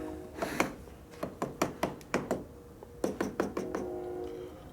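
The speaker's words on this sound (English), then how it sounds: "So use a soft base hammer." A soft-faced hammer taps a Harley-Davidson Evolution engine's top end, about a dozen sharp strikes on metal in an uneven rhythm with a short pause midway, fairly close.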